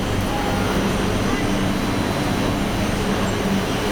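Inside a commuter train in Lisbon, a loud, steady rumble and roar of the moving carriage fills the space without a break, with low mechanical hum and no clear voices.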